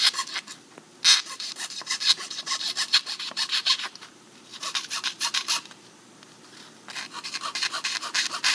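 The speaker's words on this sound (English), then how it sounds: "We're also going to clean up the outside edge with sandpaper." Sandpaper rubs back and forth along the outer edge of a double-bevel marquetry veneer koi fish, a steady rasping scrape in repeated strokes with brief pauses, close and moderately loud, with no talking.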